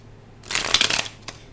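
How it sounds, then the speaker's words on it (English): Tarot cards are shuffled in one brief, close, riffling burst of papery flutter that fades with a final soft tap. "let's go ahead and shuffle"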